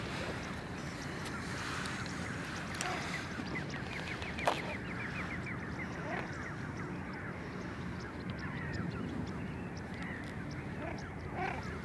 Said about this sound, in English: It's very strange being surrounded by all these birds. They're just going off on one.